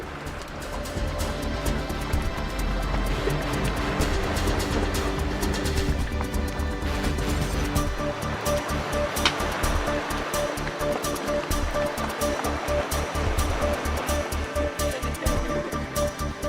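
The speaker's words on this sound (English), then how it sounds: "There's icebergs floating in the water, the sound of bubbles popping, the sound of ice grinding against itself." Continuous watery wash and crackle around floating icebergs in Antarctic sea, with fizzing bubbles popping and ice grinding, steady and fairly loud throughout.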